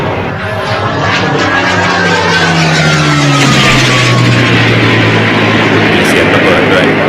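A high-altitude RC warbird airplane flyby sound effect for a live RC airshow: a loud, continuous engine drone whose pitch sweeps steadily downward as it passes, rising then sustaining without pause.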